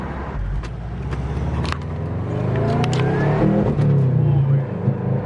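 A Subaru WRX with a new XForce aftermarket exhaust revs up and accelerates, its deep exhaust note rising in pitch, loud and close, with a few voices over it.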